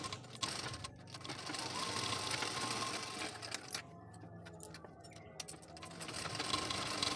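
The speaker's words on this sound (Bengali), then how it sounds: "জামা কাপড়গুলো এখন বসেছি সেলাইয়ে, কারণ কালকে সকালের মধ্যে আমাকে এই ব্লাউজটা তৈরি করতে হবে" A sewing machine stitches a blouse with a steady close mechanical whirr and rapid ticking, briefly pausing and restarting midway.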